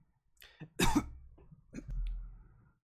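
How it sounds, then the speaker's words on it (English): A person coughs a few times, with one loud harsh cough in the middle and a rougher throat-clearing sound trailing after it, close up with no other sound. "enough of the coughing and all of that"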